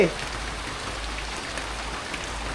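Steady rain falls in a village, an even close hiss of drops on surfaces holding constant throughout, with a brief voice at the very start.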